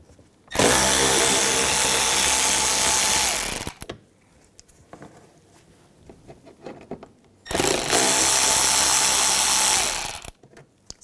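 A power tool with a T25 socket backs screws out of the inner fender well of a 2011–2018 Volkswagen Jetta, two loud whirring bursts of about three seconds each, close up, separated by quiet shuffling.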